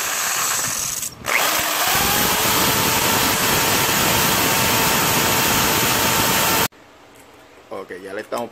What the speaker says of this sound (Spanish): ya le estamos poniendo los tornillos